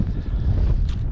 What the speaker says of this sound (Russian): Ветер сильный.